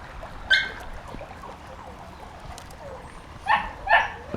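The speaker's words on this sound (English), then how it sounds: "Here's Mummy Honey." Mother dog of a litter of puppies, first let out of the pen, gives a few short soft barks or yips, one near 0.5 s and two close together near 3.5–4 s, in a quiet room.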